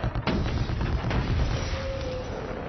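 Gunfire strikes a building during a Transformers: Dark of the Moon action scene, heavy booming blasts and rumbling impacts packed densely over a constant loud roar.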